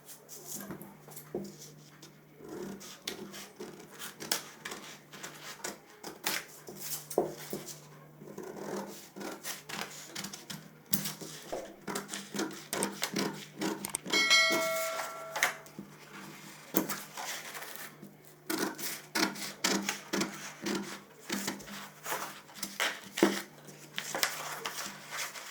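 Scissors snipping through fabric while a tailor cuts out a bandh gala Jodhpuri prince coat, with a steady run of close, dry rasping and rubbing cuts and brief pauses, and no talk.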